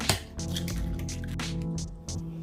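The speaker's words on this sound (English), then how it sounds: "crack us a couple 4 eggs, a little bit of water, give it a hard whip, and our egg wash is ready." Eggs and a little water are whipped hard into egg wash, making a continuous wet, squishy sloshing close up.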